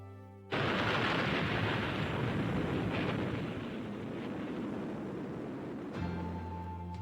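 A thunderstorm sound effect rolls in as a loud, sudden crash of thunder followed by a long, broad rumble that slowly eases, then a low tone takes over near the end.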